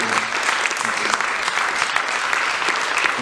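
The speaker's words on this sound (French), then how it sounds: "Veuillez l'accueillir sous les applaudissements, merci." Loud, sustained audience applause at a L'Étrange Festival film screening in Paris, welcoming the film's director; dense, steady clapping from a large crowd fills the whole stretch without any talking.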